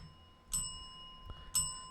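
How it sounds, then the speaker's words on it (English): A small tavern bell is struck, giving two bright metallic rings about a second apart that fade quickly. The room is quiet apart from a soft knock between the rings. "hit the bell 3 times."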